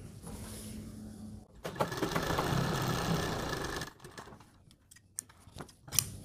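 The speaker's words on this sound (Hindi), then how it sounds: "आपको एक सिलाई लगानी है नेक के बीच बीच में यहाँ पे" A sewing machine runs a short stitch line through the neck of a suit with buckram backing, a steady close mechanical whirr lasting a couple of seconds before stopping, followed by light handling clicks.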